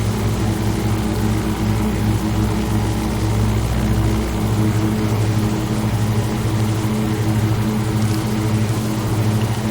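A propeller aircraft engine drones loud and steady in the X-Plane flight simulator, a constant low hum throughout level flight with no talking.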